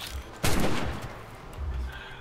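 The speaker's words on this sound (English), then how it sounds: "Why do I hear gunshots? Lots and lots of gunshots." A burst of rapid gunfire in the video game Atlas erupts after a brief pause, sustained and muffled, as if from a distance, with a low rumble continuing beneath.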